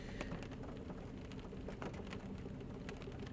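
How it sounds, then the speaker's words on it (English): Steady rain patters on the outside of a parked car during a days-long Florida downpour, a quiet continuous hiss broken by scattered sharper drops. "It's been raining in Florida for like the past few days, like just constant."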